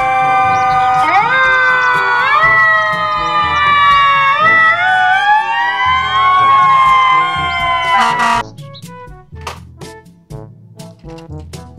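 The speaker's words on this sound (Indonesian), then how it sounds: "Mobil truk pemadam kebakaran." A loud, wailing fire truck siren sweeping up and down for about eight seconds, then cutting off into clicks and toy-like clatter.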